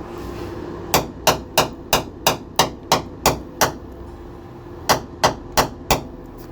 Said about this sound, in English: Just to prove to you it's solid,